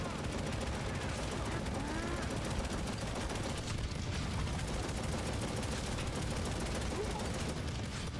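Rapid automatic gunfire from the video game Necromunda: Hired Gun rattles continuously through the whole stretch, dense overlapping shots under game noise with no pauses.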